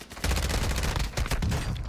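Dense gunfire from Warzone 2 rattles nonstop for nearly two seconds, loud and close, with rapid overlapping shots and no speech.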